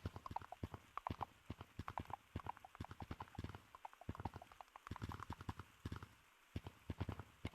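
Rapid horse-hoof clip-clops from a running horse in the Gorilla Tag video game, a brisk, uneven patter of hollow knocks that carries on throughout, fairly faint and without speech.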